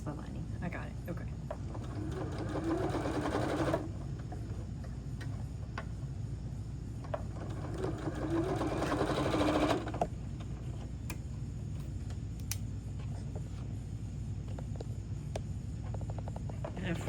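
A home sewing machine stitches a lined strawberry-themed drawstring bag in two short runs, a few seconds each, over a steady background hum, with quieter handling between the runs.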